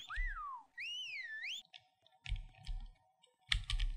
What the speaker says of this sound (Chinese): 我听到有东西在吹哨子